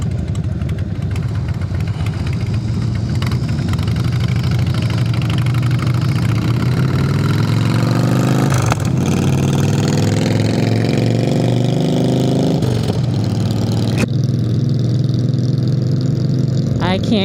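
Motorcycle engine idling close by alongside another rider's louder bike, a steady rumbling drone with revs rising and falling, and a voice talking over it.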